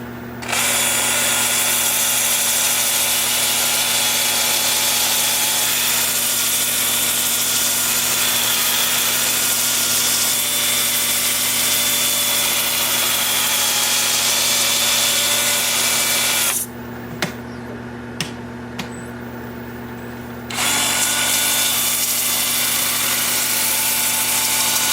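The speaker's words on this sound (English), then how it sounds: "So I will get set up for sanding." A power sander works a maple wood piece with a loud, steady whirring drone, cutting out for a few seconds with faint handling clicks before starting up again.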